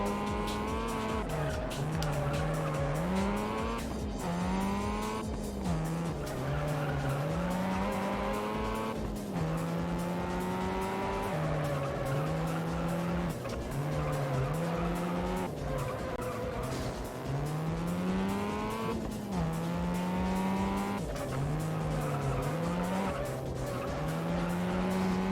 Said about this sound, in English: Let's see how my Viper driving is today.